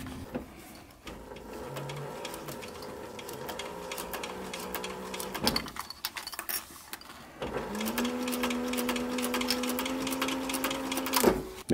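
A sewing machine stitches a sun visor at a moderate level in two stretches, broken by a brief pause with handling clicks, the second run steadier and more even.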